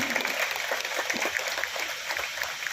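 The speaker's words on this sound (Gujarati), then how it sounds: "આ ટીમ માટે એકવાર આપણે તાળી પાડી દઈશું" Audience clapping for a fire rescue team at a fire awareness programme, a dense, steady patter of many hands that stays even throughout, without a clear break.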